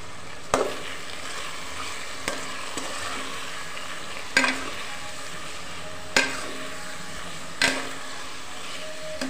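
A spoon stirs tomato masala with salt in a pan, scraping and sizzling steadily with several sharp clanks against the pan at irregular intervals, close and fairly loud, with no voices.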